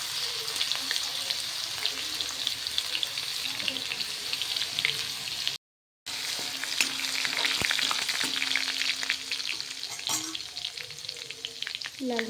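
Garlic paste hits hot oil and fries with a loud, steady, dense sizzle close by, broken by brief stirring sounds and a short gap partway through.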